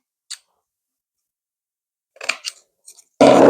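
Scissors roughly cut through a bandage in a few short, crisp snips, with a louder rustle of material handled at the end.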